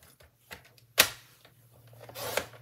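Card stock for a stamped vintage card is cut with a trimmer, giving a sharp loud snap near the start followed by a longer scraping slide a moment later, close and isolated over faint background hum.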